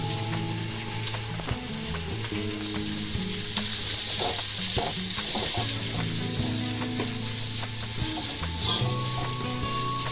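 Sliced big onions sizzle steadily as they sauté in a pan with ghee and a little groundnut oil, a dense continuous frying hiss broken by occasional stirring clinks, with no talk over it.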